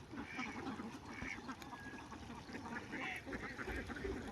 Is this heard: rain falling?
no